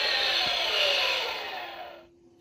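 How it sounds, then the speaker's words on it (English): A Micro Galaxy Squadron AT-AT toy powers down with a breathy, whirring electronic rush that holds briefly, then fades and cuts to near silence after about two seconds. "So if you don't play with it within 30 seconds, it powers down"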